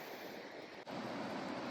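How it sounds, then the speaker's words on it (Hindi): A river flows below the road near Devprayag on a trip toward Kedarnath, giving a steady broadband rush of water that stays continuous and fairly distant with no voices. "नीचे नदी"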